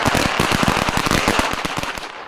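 Fireworks in Butte go off as a dense, fast crackling string of loud pops, close and continuous, like a burst of firecrackers with no talk.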